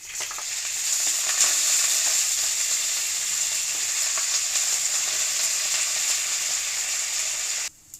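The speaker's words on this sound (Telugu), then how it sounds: "వన్ స్పూన్ పచ్చినపప్పు పది వెల్లుల్లి రెమ్మలు మూడు ఎండుమిర్చి రెండు రెమ్మల కరివేపాకు వేసుకుని వేయించుకోవాలి" Chana dal, garlic cloves, dried red chillies and curry leaves frying in hot oil, giving a steady close sizzle with faint crackles throughout that cuts off abruptly near the end.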